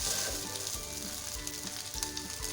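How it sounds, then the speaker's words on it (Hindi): Salted boiled rice frying in a pan over a medium-high flame, a continuous bright sizzle close by with soft rhythmic tossing and scraping underneath, no talking. "मीडियम टू हाई फ्लेम पे ही आप इसको फ्राई करना है।"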